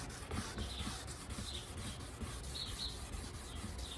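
A car headlight lens scrubbed with an abrasive grit during a restoration, giving a continuous gritty rubbing with repeated back-and-forth strokes, close and moderately loud, with no talking.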